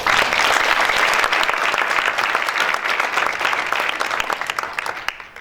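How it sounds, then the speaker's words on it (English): Audience applause at a launch event for a national anti-racism essay competition publication: steady, dense clapping from a large room, loud and continuous for several seconds, thinning slightly toward the end. "please give that a round of applause"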